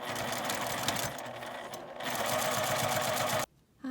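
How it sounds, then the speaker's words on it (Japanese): A sewing machine runs steadily as it edge-stitches a seam on a lined zipper pouch. The needle whirrs in a fast, even rhythm and stops abruptly near the end. "下側に端ミシンをかけます。"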